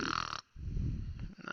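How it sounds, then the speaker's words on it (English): Loud, rough snoring from a sleeping figure in a dungeon scene comes close and clear. A long rattling breath is followed by a short pause and then another raspy snore. "As you hear the sound of snoring as you enter."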